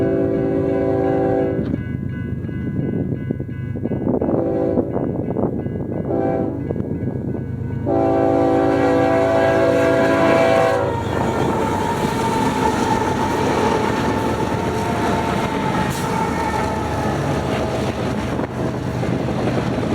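An eastbound BNSF Z freight train led by locomotive 7935 passes at Pisgah on the Needles subdivision. It sounds several loud horn blasts in the first half, then a steady heavy rumble and clatter as the cars roll by close.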